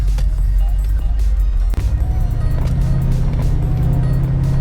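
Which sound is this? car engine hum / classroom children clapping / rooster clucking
car engine hum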